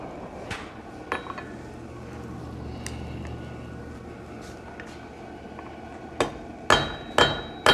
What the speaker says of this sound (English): I utilize a treadle hammer.